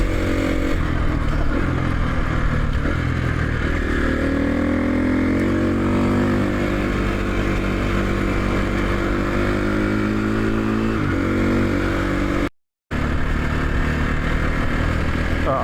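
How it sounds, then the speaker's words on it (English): Several motorcycles on a group road ride through the Yorkshire Dales pull away, a steady, close engine drone with rising and falling revs and wind rush running throughout. "And all the bikes disappearing off into the distance."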